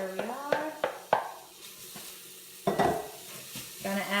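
Onion sautéing in a pan for egg rolls, a soft close sizzle under a series of sharp spoon-against-pan clinks and scrapes, with brief voiced sounds in between.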